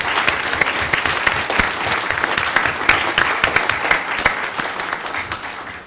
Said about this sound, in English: if we could have another round of applause for all the storytellers